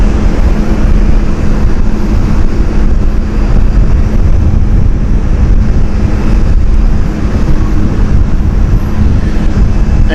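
A passing Emirates airliner at Amsterdam Schiphol Airport gives a loud, steady broadband jet roar that holds constant across the whole stretch, with no talk over it.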